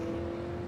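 Race cars roll down pit lane at Five Flags Speedway in an iRacing sim race, a steady engine drone that holds close and even, with no talk.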